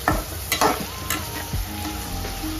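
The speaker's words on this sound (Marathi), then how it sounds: "आई 2-3 मिनिटासाठी परतून घ्यायचं आहे, चांगला फ्राय झाला पाहिजे कांदा।" Chopped onions frying in a pan with salt while a spoon stirs them, giving a close, steady sizzle broken by a few scraping stir strokes, with no voices.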